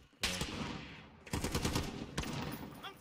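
Call of Duty: Warzone gunfire crackles in rapid automatic bursts, several sustained volleys at moderate volume with brief gaps between them.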